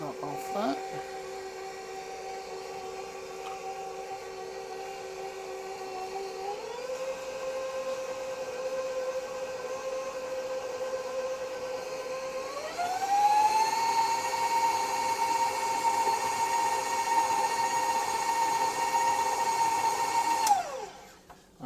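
A stand mixer beats raisin cookie dough with a steady motor whine that steps up in speed twice, running alone for about twenty seconds before it cuts off.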